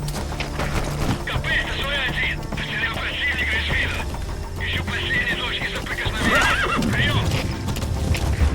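D-Horse in Metal Gear Solid V neighs and whinnies loudly in repeated bursts over a steady run of galloping hoofbeats, with a low mechanical hum and game effects underneath.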